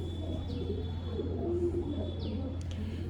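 Pigeons at a Lucknow pigeon market coo softly, low throaty calls set against a steady hum and faint background noise, with a couple of brief higher chirps.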